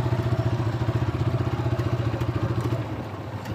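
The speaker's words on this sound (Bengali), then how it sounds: "বাইক চলে যাচ্ছে আমাকে ওভারটেক করে" A motorbike overtakes on a dry riverbed near Shilaidah in Kushtia, its engine throbbing in a fast, even pulse close by and loud, then easing slightly as it pulls ahead.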